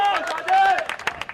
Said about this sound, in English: so lovely to hear the crowd coming into the play as well